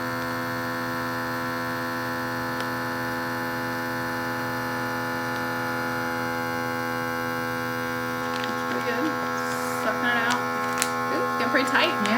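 An Always Fresh Seal Vac vacuum sealer runs with a steady electric hum and buzz throughout, joined near the end by faint rustling of the bag as it tightens.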